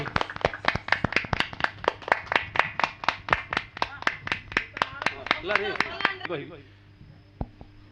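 An audience at an Odia bharatalila stage performance claps hands in steady rhythmic unison, about three beats a second, close and clear, before fading out toward the end.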